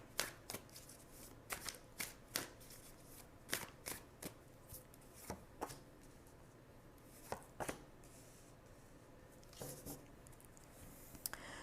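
Tarot cards are shuffled and drawn by hand in a quiet room, soft irregular flicks and slaps of card stock, faint and close, with no talking.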